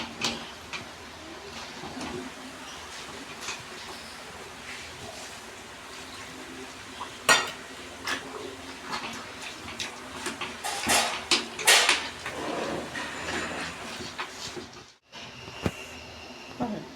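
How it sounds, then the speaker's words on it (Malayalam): A spoon clinks and scrapes intermittently as chakka erisheri, a jackfruit curry, is stirred in a pressure cooker on the stove, against a quiet kitchen background with no talking. "ഇനി കുക്കർ അടുപ്പിൽ വെച്ച് ഒന്ന് ഇളക്കണം."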